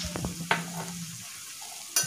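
Green chili paste masala with salt being sautéed in a pan, a few soft scrapes of stirring and light sizzling, brief and close, with sharper clicks at the start and end.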